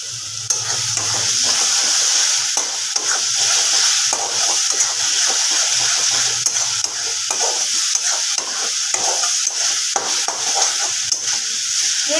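Spice masala for mutton keema aloo dum fries in a little ghee while a spoon stirs it, a steady bright sizzle broken by repeated scraping strokes against the pan, close and continuous.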